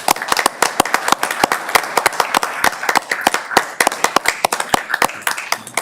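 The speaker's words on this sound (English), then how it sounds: "Big round of applause for." An audience claps at a Board of County Commissioners meeting, loud and close, with sharp, distinct hand claps in a brisk, uneven rhythm for several seconds and no talking.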